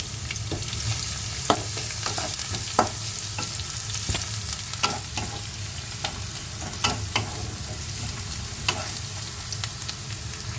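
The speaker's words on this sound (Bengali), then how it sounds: "এরপর অ্যাড করে দিলাম রসুন রসুনটা আমি কুচিয়ে নিয়েছি" Chopped garlic fries in oil in a pan for a Bangladeshi dried-fish dish, with a constant soft sizzle under repeated sharp scrapes and taps of a spatula, heard up close and without speech.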